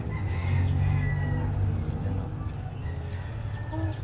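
Kanawayon hennie chickens cluck and murmur close by in a pen, steady and moderately loud, with someone talking over them.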